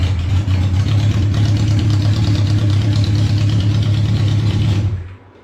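A 1972 Honda CB500 Four motorcycle engine idles with a steady, loud, close rumble that runs evenly for about five seconds before being shut off and dying away to quiet.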